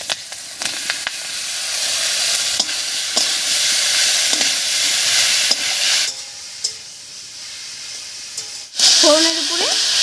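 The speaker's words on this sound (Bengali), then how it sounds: "ফোড়নটা একটু ভাজা হয়ে গেছে এবার এর মধ্যে দেবো চিড়ে রাখা দুটো কাঁচা লঙ্কা আর এর উপরে দেবো কেটে রাখা লাউ" Green chillies and chopped bottle gourd drop into hot oil with a cumin and bay leaf tempering, giving a loud, steady sizzle with scraping stirs; the frying sound dips partway through, and a voice briefly speaks at the end.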